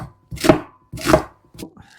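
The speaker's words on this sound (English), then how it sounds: "now once you have peeled your shallots, you just cut it into thin rings" Knife slicing peeled shallots into thin rings on a board, three distinct chopping bursts, each a crisp thud with a brief rustle, close and clear with no talking.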